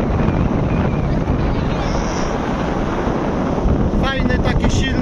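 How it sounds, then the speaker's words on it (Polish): Strong, warm wind at a beach roars steadily across the microphone, with a faint wash of surf beneath the rumble. "Fajny, taki silny, ale cieplutki wiatr."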